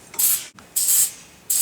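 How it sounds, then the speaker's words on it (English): A spray bottle of sanitizer hisses in three quick bursts onto hair clippers, each a sharp, close spritz separated by short pauses. "you want to spray"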